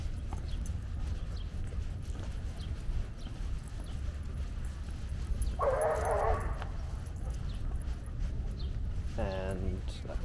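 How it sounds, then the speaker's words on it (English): A dog gives a loud, close bark during an outdoor walk in Central Park, New York, then another shorter yelping burst a few seconds later, over steady outdoor background noise. "that was a super loud dog bark"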